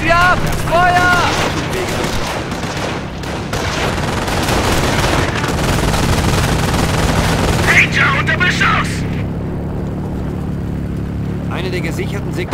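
Gunfire in the Company of Heroes video game's Normandy invasion mission, with dense rapid shots and bursts going on continuously beneath shouted voices giving commands.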